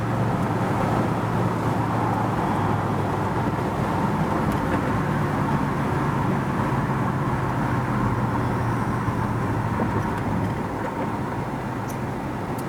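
A 1965 Malibu SS convertible driving past, its engine a steady low rumble that swells and fades gently over several seconds, heard from the roadside with no talking.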